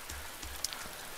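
Rain falls steadily in the video game DayZ, a soft continuous patter on surfaces with faint scattered drops, low and even throughout.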